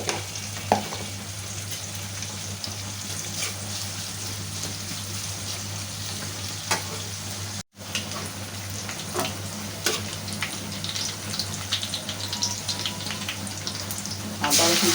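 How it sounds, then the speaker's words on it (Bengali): Onions hit hot oil in a pan for a potato and hilsa fish dish, giving a loud, steady close sizzle and crackle throughout. A brief dropout comes midway. "বসা দিলাম, দিয়ে দিলাম তেল, এখন দিয়ে দিলাম পেঁয়াজ"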